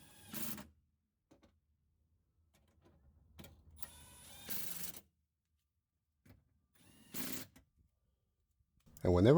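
An electric power tool tightens bolts on a 2000-2007 Chevy or GMC truck door window regulator in several short whirring bursts, separated by quiet gaps and small handling clicks, recorded up close.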